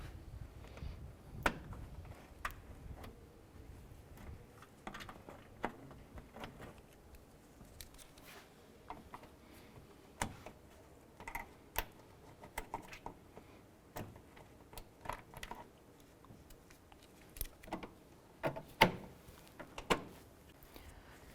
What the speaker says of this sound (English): Using our trim tool, just pop these up.